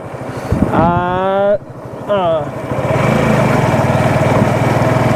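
A motorbike ridden through the streets of Rajshahi late at night gives a steady, close engine drone that rises and continues throughout, with someone talking over it early on.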